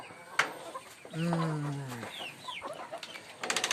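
Desi chickens cluck and call nearby in a backyard flock, including a drawn-out cry from a rooster in the middle, with scattered clucks and rustling around it.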